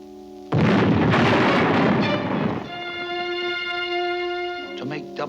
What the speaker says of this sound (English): decides to shoot off this ancient cannon to attract the Black Menace